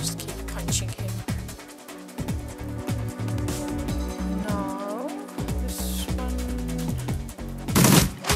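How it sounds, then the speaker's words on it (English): Shotgun fire in the Shadowrun combat game: repeated sharp gunshots crack through a dense mix of game music and effects, one loud blast landing near the end. "Shotgun."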